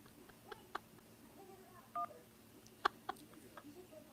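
Telephone keypad tones from keys pressed during an automated phone call menu, a couple of short, clear beeps around the middle of the clip over a faint background of line noise.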